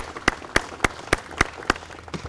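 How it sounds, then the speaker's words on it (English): Police retirees at a street sign dedication get a small round of applause, slow evenly spaced single claps about every third of a second from a few hands, fairly faint and thinning out at the end. "please give them a round of applause"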